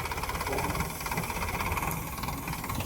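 A tractor engine runs steadily nearby in a field, a throbbing mechanical drone with a regular pulsing rhythm and no talking.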